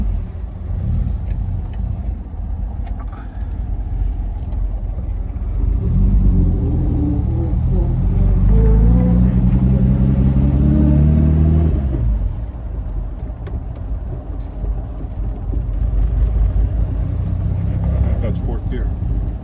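A 1957 Lancia Aurelia B24S Cabriolet engine fires up and runs with a deep, rumbling idle that swells into a stronger rev in the middle before settling back, close by, with people talking briefly around it.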